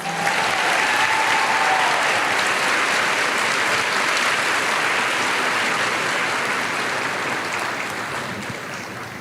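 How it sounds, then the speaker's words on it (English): Sustained audience applause at a back-to-school teacher event, a dense even wash of clapping that holds steady for most of the stretch before gradually tapering near the end. "Let's give her another round of applause."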